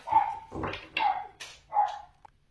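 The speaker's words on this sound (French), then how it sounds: "Excusez-moi pour les chiens derrière." Dogs bark and yip behind a speaker, several sharp barks with a whimpering tone in an uneven series, fairly loud and close, with no talk over them.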